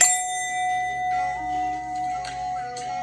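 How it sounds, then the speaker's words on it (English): A bell is struck once at the start and rings on with a steady, sustained tone that slowly fades, with faint background sounds beneath it. "Let me go ahead and hit the bell."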